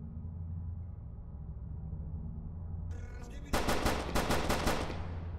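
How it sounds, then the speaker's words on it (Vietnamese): Gunfire in a Skibidi Toilet horror video game: after a quiet stretch of low ambient hum, a rapid burst of about six loud, sharp shots rings out close by in an evenly spaced volley. "Để bắn một đi một ít đạn đi rồi chúng ta lấy đạn ở trên."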